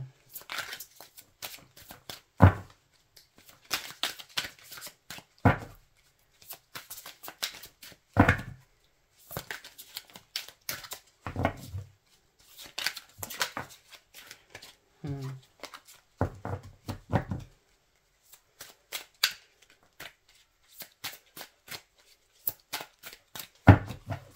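Tarot and oracle cards are shuffled by hand in a string of quick, crisp riffling and slapping bursts, close and intermittent, with a person speaking softly between them.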